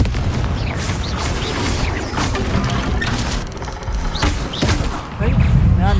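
A Confringo fire spell explodes in the Hogwarts Legacy video game, booming thuds and crashing bursts within dense, loud game noise, with a voice heard among the effects.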